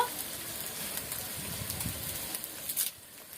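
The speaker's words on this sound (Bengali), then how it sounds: "পরিমাণ মতো হলুদ দিয়ে দেব। সবকিছু একসঙ্গে ভালো করে কষিয়ে নেব।" Mutton cooking with turmeric and spices in a pan gives off a steady, soft frying sizzle with a few low bumps, ending briefly quieter.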